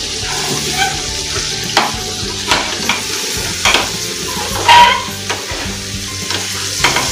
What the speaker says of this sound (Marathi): कोलंबी पटकन फ्राय होते का काय? हे आता फ्राय होते।